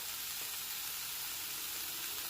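Masala of tomato, green chili and ginger paste with turmeric fries over low to medium heat, a faint, even sizzle that hisses steadily without pause.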